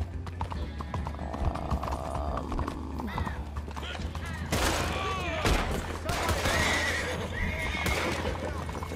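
Horse hooves clip-clop in the video game Red Dead Redemption, with a horse neighing and bursts of gunfire over a steady game background, while someone talks.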